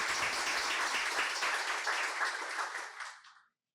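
A large crowd applauds steadily, a dense wash of clapping that holds at full strength and then fades out near the end.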